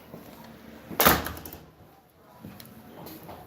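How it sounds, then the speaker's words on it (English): A household door is pushed shut with a single firm thud about a second in, followed by a quiet, faintly humming room. "To keep this door shut until Ava's dressed."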